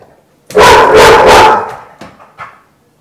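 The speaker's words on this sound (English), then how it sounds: "So was that a bark at my foot?" A dog gives one loud, close, drawn-out bark lasting about a second, followed by a couple of softer, shorter yips or grumbles.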